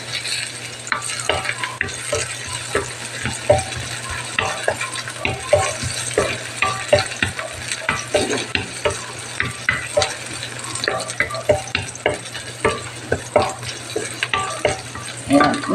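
Garlic sautéing in hot oil in a pan for a pork adobo, a continuous close sizzle broken by rapid, rhythmic scraping and stirring clatter of a spatula throughout.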